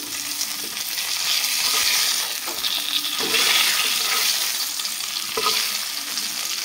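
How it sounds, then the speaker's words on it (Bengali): Fish frying in a pan for a light fish curry, a steady hissing sizzle with occasional stirring scrapes, moderately loud and close, with no talk. "लाल लाल करे আমি ভেজে নেব"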